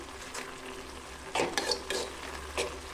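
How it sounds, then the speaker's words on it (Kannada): Kirsali baji greens cook down in a pan, releasing their own water, with a soft continuous sizzle broken by several scraping stirs of a spatula against the pan. "ಹೇಗೆ ಬೇಯ್ತಾ ಇದೆ ನೋಡಿ ಬಾಜಿ."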